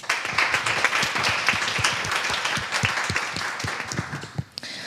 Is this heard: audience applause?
yes